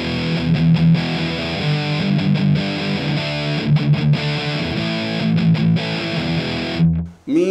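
A heavily distorted electric guitar played through a virtual Mesa Boogie head and cabinet chugs out dense, sustained riffs at loud level, cutting off abruptly at the end.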